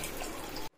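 Water is poured from a bowl onto soaked basmati rice for biryani, a dense continuous splashing pour that stops abruptly near the end, leaving near silence.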